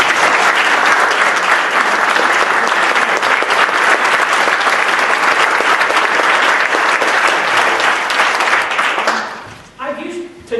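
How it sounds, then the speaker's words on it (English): Loud, dense applause from a moot court final audience honouring the judges, a sustained wash of many hands clapping that holds steady for nearly nine seconds before fading and dropping away near the end. "Let's give them a big round of applause."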